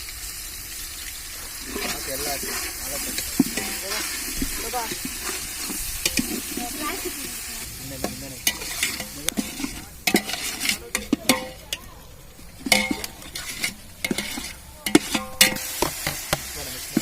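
Garlic sizzling in a pan while being stirred, with a steady frying hiss under scraping and clinking utensil hits that grow busier and sharper toward the end.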